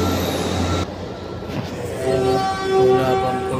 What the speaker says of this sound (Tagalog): Darating na ang aming sasakyan na tren.